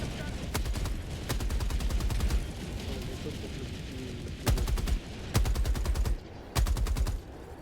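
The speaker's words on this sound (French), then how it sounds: "tire sur le vaisseau pour que le bouclier dégage" Automatic gunfire aimed at a ship in the video game Helldivers comes in several loud rapid bursts over steady background game noise, with people talking in French between the shots.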